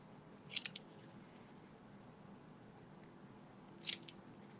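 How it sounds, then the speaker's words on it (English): Snips trimming small paper pieces for a handmade Christmas card give two brief crisp cuts, one early and one near the end, separated by a quiet stretch of faint room noise. "So I'm going to go ahead and just use my snips and trim these."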